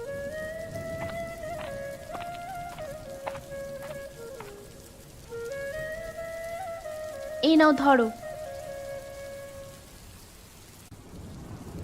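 Rain and thunder in an animated Bengali cartoon: steady rainfall hisses under a musical score, broken by a sharp rumbling thunder crack midway, while a character speaks briefly.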